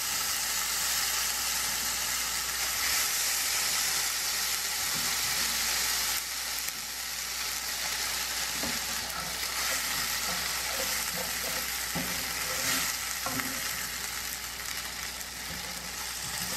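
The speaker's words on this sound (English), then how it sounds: "I'm just going to move that over spoon by spoon and start getting that all coated in this garlic butter" Gnocchi fry in garlic butter in a pan, giving a loud, continuous sizzle with occasional soft spoon knocks as they are moved and coated.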